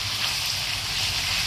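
Marinated lemongrass salt pork chops frying in a pan, giving a steady, dense sizzle close by with no talking.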